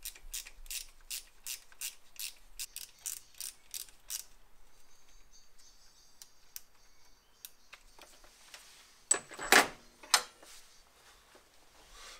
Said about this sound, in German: Die Umlenkrolle können wir direkt festziehen.